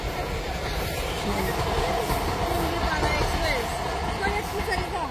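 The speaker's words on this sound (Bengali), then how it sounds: "তো এই যে ট্রেন যাচ্ছে" The Tungipara Express rumbles steadily past close by, wheels clattering on the tracks, with voices faintly mixed into the continuous roar.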